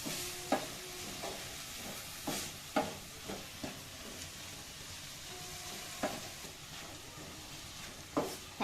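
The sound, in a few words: palak (spinach) frying in a pan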